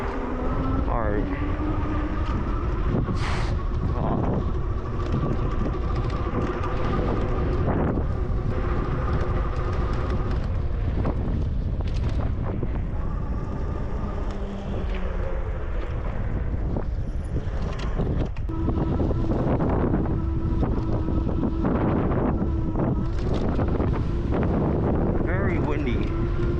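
Gusty wind roars over the microphone on a bike ride, a loud continuous rumble with surges, while a person talks intermittently over it.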